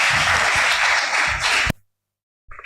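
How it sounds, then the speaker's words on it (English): A dense burst of audience clapping fills the first part, then cuts off abruptly to silence before a faint sound returns at the end. "Give her a big round of applause."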